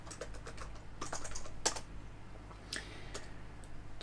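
Typing a package install command on a computer keyboard, with a run of light, close key clicks in irregular bursts and a few sharper taps, all without speech.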